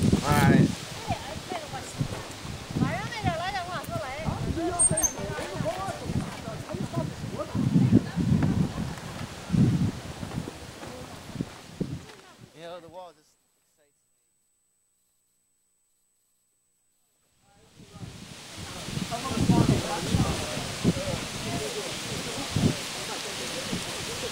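Strong wind buffets the microphone on a hike along the Huanghuacheng section of the Great Wall near Beijing, a loud continuous rushing with people talking over it, cutting to silence midway before returning.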